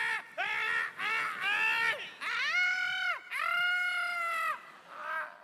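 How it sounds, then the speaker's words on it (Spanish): A person on a comedy stage lets out a run of high, wailing screams in several drawn-out bursts, rising and falling in pitch, loud and close with no talk between them. "¿Y vos por qué gritás?"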